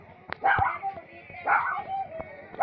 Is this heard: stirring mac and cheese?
no